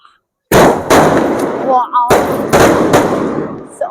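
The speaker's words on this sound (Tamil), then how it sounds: "அப்படியே மொத்தமா சேர்ந்து வெடிச்சிருச்சு." A rapid barrage of loud Sivakasi fancy firecrackers bursting together crackles almost continuously, with a brief lull midway and a faint whistle before the popping resumes.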